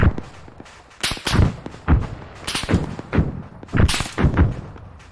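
Gunfire in the video game ArmA 3 during a squad training session, a run of sharp, booming shots and thuds spaced irregularly, some close and loud, others more distant.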